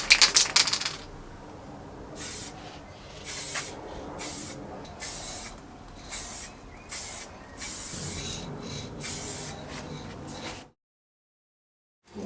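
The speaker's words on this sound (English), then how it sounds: "I'm gonna start spraying it red." Short hissing bursts from a spray can painting a helmet, about ten in an uneven rhythm with brief pauses between, close and fairly loud, ending in silence.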